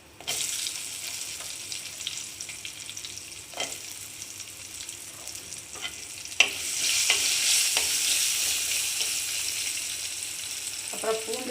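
Chana dal and asafoetida frying in oil for Tamil ennai kathirikkai kuzhambu, a steady crackling sizzle with occasional spoon clicks, swelling louder midway as more goes into the pan.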